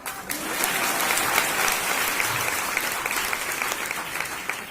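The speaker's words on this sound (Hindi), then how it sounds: "जो बातें अच्छी लगेगी तो ताली मार देना" Applause from a seminar audience in an indoor hall, a dense patter of clapping that swells quickly after a short start and holds steady before thinning slightly toward the end.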